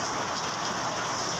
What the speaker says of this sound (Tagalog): Ayun, lakas ng ulan.